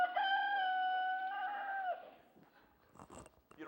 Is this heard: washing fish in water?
no